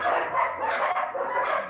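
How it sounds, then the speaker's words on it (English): Dogs bark in a rapid, continuous burst close by as their owners arrive home, loud and excited with no talk. "The owners are home, so the dogs are freaking out."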